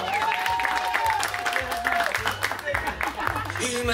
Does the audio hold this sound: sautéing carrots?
no